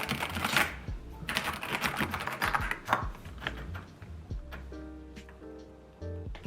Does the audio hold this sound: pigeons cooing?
no